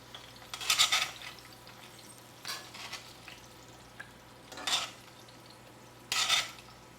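Potatoes and garlic frying in hot, smoking camelina oil make a low continuous bubbling, broken by four short bursts of louder crackling and stirring spaced a couple of seconds apart.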